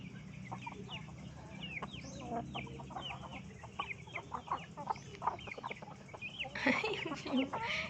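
A rooster and other chickens cluck and call in a steady run of short, overlapping bird sounds, with a louder flurry near the end, under a background murmur.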